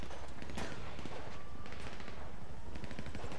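Gunfire in GTA 5 on PS3 during a boat heist mission, a dense burst of shots over a constant loud game background.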